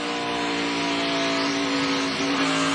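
NASCAR stock cars racing at Dover, a loud sustained engine roar with a steady high pitch from cars passing at speed on the track.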